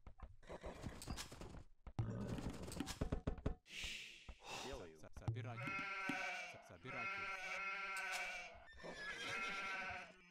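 Sheep bleat in the strategy game Age of Empires 2, several drawn-out calls in the second half after a stretch of clattering game sounds and horse-like neighs, fairly close and clear.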